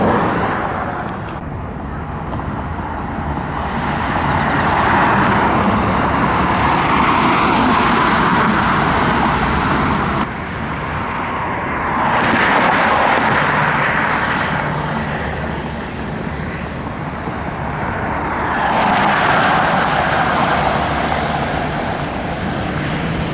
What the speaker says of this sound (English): the CRV's running, driving smooth.